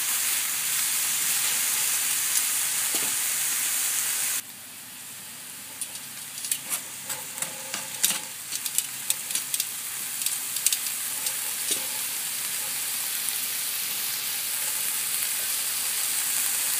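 Meat sizzling and frying in a pan for ginataang langka, a steady loud hiss that drops a little midway, with scattered scraping clinks of a utensil stirring through it.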